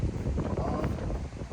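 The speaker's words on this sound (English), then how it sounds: "God, that wind's picking up." Wind buffets the microphone outdoors near foals, a low, rumbling gusty roar that fills the whole moment without letting up.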